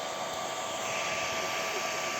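An Ender 3 V2 3D printer runs with a steady, even broadband whir like a fan, constant throughout and close by, with no talking over it.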